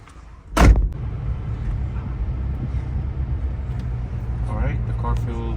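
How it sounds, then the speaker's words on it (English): A 2010+ Toyota FJ Cruiser with a newly replaced engine harness sets off on a test drive: a loud door thud near the start, then a low, steady engine rumble that continues throughout. "So let's go for a test drive."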